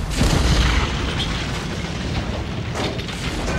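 A detonated explosive charge booms in Batman: Arkham Asylum, a loud, deep blast that rolls into a long rumbling tail and sustained debris noise.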